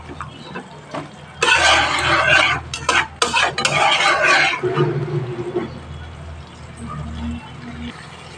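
Potato and pointed gourd being sautéed in spices in a pan, loud bursts of stirring and clattering spoon against the pot, then fading to a quieter simmering sizzle.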